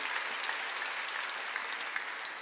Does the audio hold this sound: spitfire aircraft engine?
no